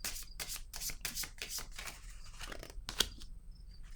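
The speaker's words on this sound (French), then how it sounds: "Je vais déposer une autre carte pour le signe du poisson." A tarot card laid down, among a run of papery card shuffles and slaps that arrive in quick bursts for a couple of seconds, then a single sharper tap, close and fairly quiet.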